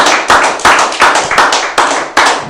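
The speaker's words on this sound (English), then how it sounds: "Round of applause, man." Close, loud hand clapping at a hip hop podcast, with sharp claps in a fairly regular rhythm, roughly seven strong beats over a couple of seconds with little else present.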